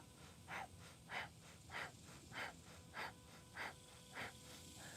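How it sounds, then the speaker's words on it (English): Steady yoga breathing during a standing twist and forward fold, seven soft, even breaths spaced about every half second apart, close and alone over faint room tone. "And breathe it right there."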